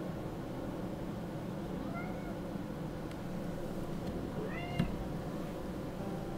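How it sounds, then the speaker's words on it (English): A pet kitty meows a few times in a quiet room, short rising mews at moderate distance over a steady background hiss, the last call slightly louder. "There's my kitty"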